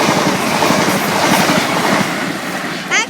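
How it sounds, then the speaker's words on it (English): A Stansted Express Class 379 train, not in service, passes through Waterbeach station, a loud, close, continuous roar of wheels on rail with rhythmic clacking and rushing air, a brief squeal near the end. "That was actually Stansted Express, which was not in service."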